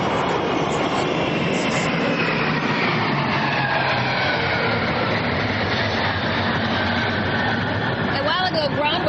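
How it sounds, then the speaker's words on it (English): A loud, continuous roar of military aircraft engines dominates, broad and rumbling as they pass overhead during a Victory Day military parade, with voices faintly present beneath it. "All types of aircraft flying over now."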